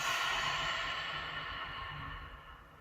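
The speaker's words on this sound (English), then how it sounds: "Let's breathe out through our mouths as we exhale." One long, deep breath pushed out through the mouth during a gentle yoga session: a close, airy whoosh that slowly fades over about three seconds, with no talking.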